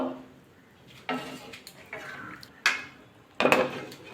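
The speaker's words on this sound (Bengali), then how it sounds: "এবার ঢাকা দিয়ে দেবো" A lid is set on a cooking pot of soybean and cauliflower curry, giving a few separate metallic clanks and clatters spaced about a second apart, close and fairly crisp against quiet.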